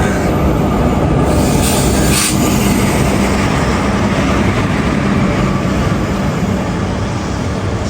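A Sahibganj–Howrah train rumbles past on the rails, loud and close, with continuous wheel noise and a brief squeal of wheels on track early on.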